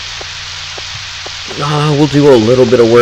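Soft, steady rain hiss in the farming game Harvest Moon 64, with faint ticks at first, then partly covered by someone talking over it.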